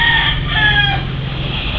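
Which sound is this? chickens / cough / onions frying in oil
chickens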